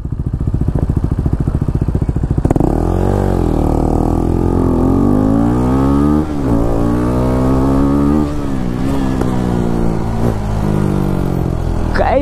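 Heavy road traffic of cars and motorcycles on the way to the Hemis Tsechu festival, led by a loud nearby engine revving and shifting with sweeping pitch changes over a continuous motor hum.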